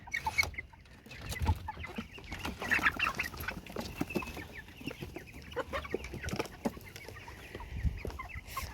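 Several chickens cluck softly and irregularly nearby, with occasional louder squawks over a breezy outdoor background.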